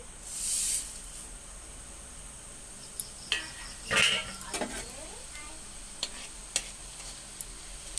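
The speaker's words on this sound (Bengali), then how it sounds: "এবার আমি ফোড়ন দেব এই যে পাঁচ ফোড়ন আর মৌরি" Panch phoron and fennel seeds crackle and sizzle in hot oil while pickle is being made, a soft steady fry under scattered sharp spoon clinks and stirring scrapes, one louder clatter midway.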